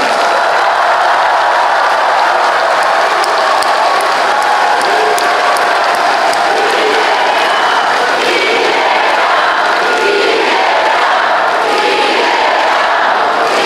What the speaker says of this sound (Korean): 우리 서로를 향해서 격려의 박수 한번 부탁드립니다.